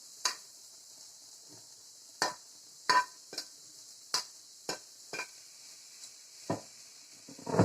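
Chicken frying in a pan as a spoon stirs it. A faint steady sizzle runs underneath, broken by sharp, irregular scraping strokes against the pan, about a dozen spread across the span.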